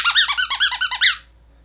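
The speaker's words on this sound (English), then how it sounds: "Really, really loud squeaker, really good" A Nerf squeaky dog toy ball squeaks loudly and close, about ten quick rhythmic squeals in a row before stopping abruptly into silence.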